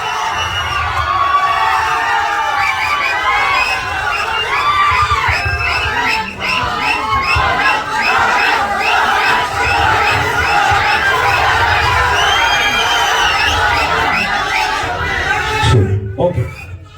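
A large press-meet audience screams and cheers to welcome actor Surya, a loud, sustained roar of crowd noise with shrieking voices and children shouting throughout, briefly dropping near the end.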